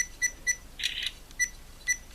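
An action camera in time-lapse mode beeps at a steady pace, each pair of short tones followed by a quick mechanical click-whir of a shutter mid-sequence, quiet and close.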